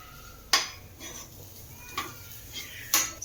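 Egg and turmeric cooking in a pan for poha, with a few sharp metallic clinks of a utensil against the pan over a low, quiet background.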